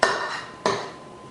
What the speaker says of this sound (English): I'm just going to put several scoops on our pan.